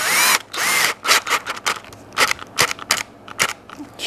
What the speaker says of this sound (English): drill a couple of holes